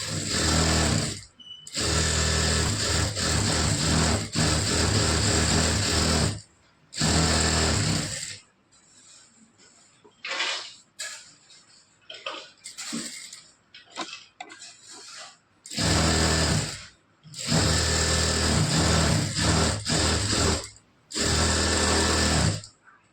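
Sewing machine stitching a blouse lining in repeated loud bursts of rapid mechanical whirring, separated by quieter pauses with small handling noises and clicks.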